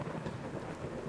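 Brief burst of thick, loud storm noise, heavy rain mixed with low thunder rumble, from the True Storms mod weather in Fallout 4.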